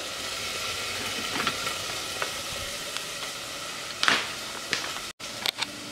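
Chicken sizzles steadily in a frying pan, a dense close hiss with occasional pops and a few scraping stir sounds, heard alone without talk.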